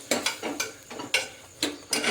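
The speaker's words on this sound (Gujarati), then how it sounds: "તો હવે હલાવી લઈશું." Masala and salt stirred in a pan, a spoon scraping in five or six quick, rhythmic strokes, close and clear, with no talk.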